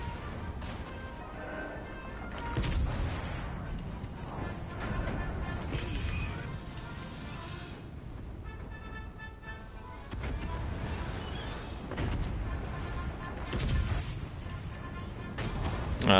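16-inch naval guns firing and exploding shells in World of Warships, heard as scattered heavy booms and crashing impacts at moderate distance over constant battle ambience and sea rumble, fairly quiet overall.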